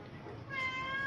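A house cat meows once, fairly quietly, with a short rising cry near a kitchen where someone talks softly before it.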